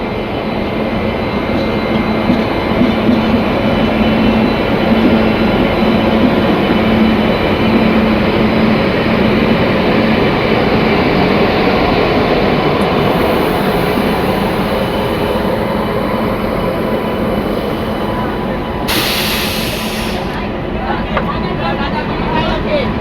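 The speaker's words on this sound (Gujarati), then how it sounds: "ઓખા તૂતીપુરીની એક્સપ્રેસ 1 કલાક લેટ ચાલી રહી છે અને રાજકોટ જંકશનથી પણ એને" The Okha–Tuticorin Vivek Express, hauled by a WAP 7 electric locomotive, pulls out of Rajkot Junction running an hour late, a loud, close, continuous rumble of rolling wheels and coaches with a brief higher whine near the end.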